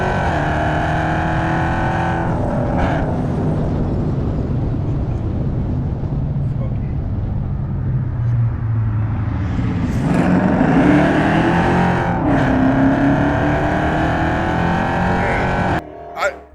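A Dodge Charger racing, its engine roaring loud and steady throughout, swelling as it accelerates around the middle before cutting off abruptly at the end.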